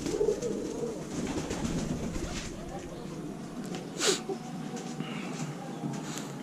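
Pigeons cooing softly in a coop with two pairs of young chicks, a low continuous murmur of coos close by, with a brief louder flutter or call near the middle.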